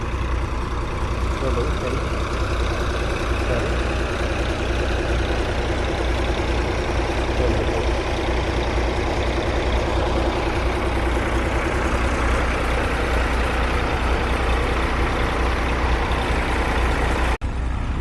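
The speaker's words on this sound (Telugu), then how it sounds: "ఇవైతే హై స్పీడ్ జెట్ ఇంజన్లు డివాటరింగ్ ఇంజన్లు" High-speed dewatering pump engines run nonstop at the Amaravati iconic towers construction site, a loud steady diesel drone with heavy low rumble, unbroken until an abrupt cut at the end.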